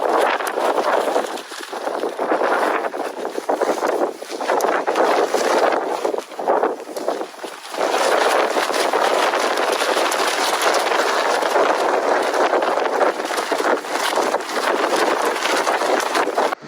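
Gale-force wind gusting outdoors during a winter storm on a wild camping trip, a continuous loud roaring buffet of air battering the microphone, surging and easing across the span with no voices.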